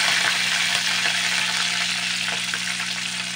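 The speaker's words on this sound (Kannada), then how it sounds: "ಎಣ್ಣೆ ಸರಿಯಾಗಿ ಬಿಸಿಯಾದಾಗ ಸ್ವಲ್ಪ ಕರಿಬೇವಿನ ಸೊಪ್ಪು" Curry leaves hit hot coconut oil in a clay pot, setting off a loud, dense, continuous sizzle with a steady hiss that barely lets up.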